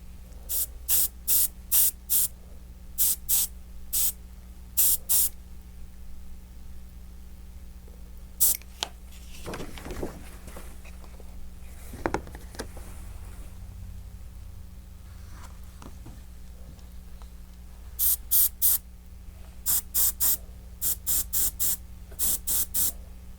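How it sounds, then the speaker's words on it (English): Short bursts of spray paint hiss in quick clusters onto a pumpkin, separated by quieter stretches with faint handling noises and a low steady hum. "I spray just a little bit on top of the pumpkin to create that illusion of moonlight"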